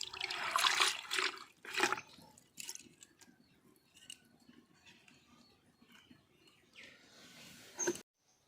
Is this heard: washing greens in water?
yes